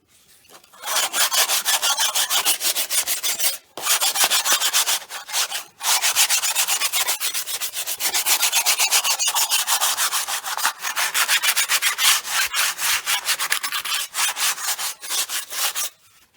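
A Corvette steering wheel is sanded by hand in long, rhythmic rasping strokes, loud and close, broken by a few brief pauses.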